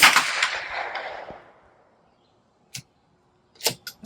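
A Federal .22 LR high-velocity hollow-point round fires during chronograph testing: one loud, sharp report with a decaying tail, followed after a gap by a few brief faint clicks and knocks.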